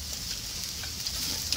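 Garlic sizzles steadily on foil laid over a wood stove beside grilling beef rib meat, a continuous close hiss with faint clicks as cloves are flipped.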